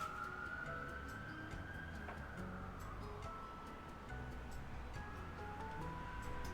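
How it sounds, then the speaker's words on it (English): Outside, an emergency truck's siren wails faintly in the distance, a sustained rising and falling tone drifting past over low steady background noise and occasional light ticks. "Can you hear the emergency truck?"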